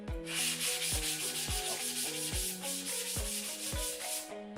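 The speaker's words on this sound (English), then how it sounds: "The Rust-Oleum sands smooth, very easy from what I'm seeing." Hand sanding Rust-Oleum primer with 400 grit sandpaper gives steady, close-up rhythmic rasping strokes, about two per second, loud and continuous with no talking.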